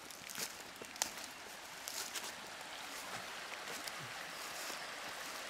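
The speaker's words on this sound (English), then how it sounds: "A creek running through over here." A small creek runs through a wooded outdoor area, a faint steady babble of flowing water with a few soft clicks and footstep-like knocks over it.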